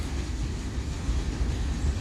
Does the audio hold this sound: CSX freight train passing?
yes